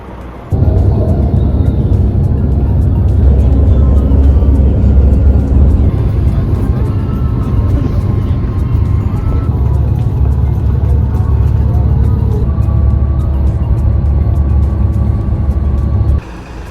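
A vehicle travels along a road through the Alps toward Lviv, a loud, steady interior rumble of engine and road noise that holds throughout and drops away at the very end.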